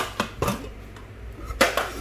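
A lid is opened on a Japanese aluminium pressure cooker, producing several sharp metallic clanks and knocks with short rattles between them, close and fairly loud.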